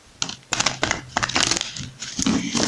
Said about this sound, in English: Just going to shuffle it once because it's a really stiff deck.